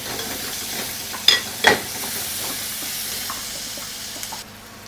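Onions sautéing with salt in a pan for a chicken dish give off a steady soft sizzle, with two sharp stirring clatters early on before the hiss fades quieter near the end.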